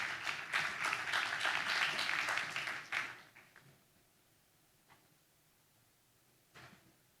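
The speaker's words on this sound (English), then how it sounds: "please raise your hands and an applause to yourself, applause to all the organizations to help this come into fruition." A crowd at a Cleveland housing redevelopment groundbreaking claps for about three seconds, then the applause drops away abruptly. A few scattered claps and knocks follow in the quiet.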